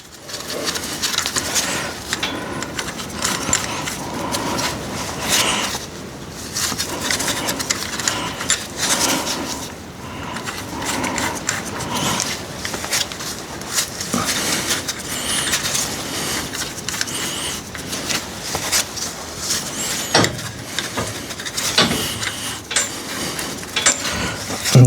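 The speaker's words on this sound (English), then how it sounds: "And then that's cleaning that thread up." Threads being cleaned up on a David Brown tractor PTO shaft, a steady grinding, ratcheting metal scrape that runs continuously and fairly loud with no talking.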